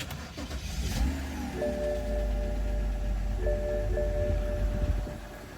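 A BMW N52 inline-six in an E90-series car cranks and catches, then settles into a steady running hum with a faint whine after a valvetronic motor gasket repair, heard up close without talk.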